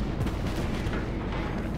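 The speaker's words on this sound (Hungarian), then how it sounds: "Durran szét az oldalamon a sok-sok lőszer." Naval artillery shells striking a warship's hull in World of Warships, heard as a dense, continuous rumble of booming impacts and blasts, loud and close, with no talking.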